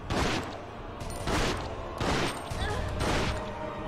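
Gunshots in Resident Evil Outbreak on PS2, with four loud shots evenly spaced about half a second apart against a dense game backdrop.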